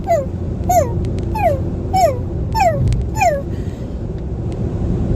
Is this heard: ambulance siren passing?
no